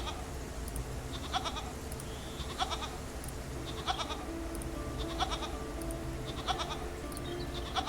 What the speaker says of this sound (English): goat bleats weakly at you